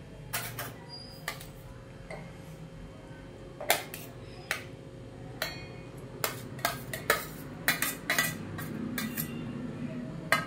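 Close, irregular clinks and taps of a spoon against a mixer jar as chikoo and sugar are scooped in, growing quicker toward the end over quiet background.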